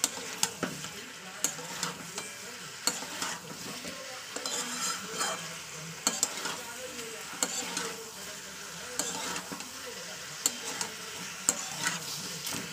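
Masala for chicken kosa stirring and frying in hot oil over high gas flame, a steady sizzle with repeated sharp scrapes and clinks of a spoon against the pan, close and continuous, no talking.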